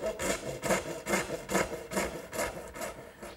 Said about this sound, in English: Now the remaining cuts for each tenon, I'll simply make with my dovetail saw.